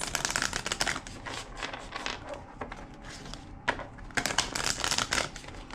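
Tarot cards being shuffled close up in quick riffling bursts, with a brief pause before a final round of crisp shuffling.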